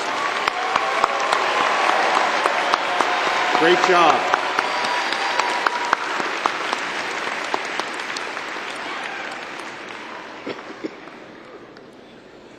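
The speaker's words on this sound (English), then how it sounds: "Let's have a round of applause for all the graduate students." Sustained applause for graduate students at a spring university commencement ceremony, a large crowd clapping in a dense wash that slowly fades over several seconds, with a voice briefly speaking over it.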